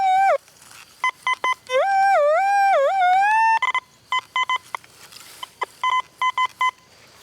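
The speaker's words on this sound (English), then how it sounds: "I got a coin signal after only a few sweeps" Metal detector tones over a buried coin while detecting around an 1886 farmhouse, with a rising and falling warble followed by a series of short, sharp repeated beeps, loud and close.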